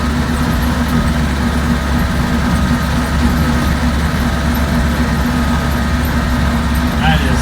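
The 1948 Crosley CoBra wagon engine drones in a steady low hum while driving through town, close and constant under someone talking.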